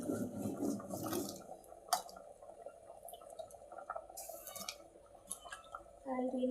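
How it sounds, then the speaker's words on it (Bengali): Chopped ash gourd pieces tipped into a pot of cooking mung dal: intermittent clattering of a utensil against the pot and soft wet splashes, separated by quieter gaps. "এখন চাল কুমড়াটি দিয়ে নিব ডালের মধ্যে চাল কুমড়াটি দিয়ে নিতেছি ডালের মধ্যে"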